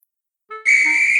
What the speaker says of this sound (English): The guard's whistle blew, and Gordon started so quickly, his wheels c